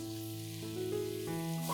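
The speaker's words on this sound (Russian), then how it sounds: "Пассируем лук до золотистости." Chopped onion sautéing in hot vegetable oil in a frying pan, a steady close sizzle with a faint hum beneath, continuous and without talk.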